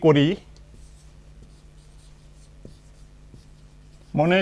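Pen or chalk writing on a board during a maths lesson, a series of faint scratchy strokes and taps between spoken phrases at the start and end.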